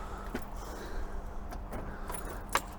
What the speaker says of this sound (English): Let's get the keys into the ignition and see if that made any difference whatsoever.